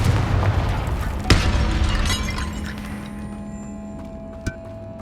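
The Confringo blasting spell from the Hogwarts Legacy video game goes off with a sharp, shattering burst, followed by a rumbling, crackling wash of debris that slowly fades, then a smaller pop near the end.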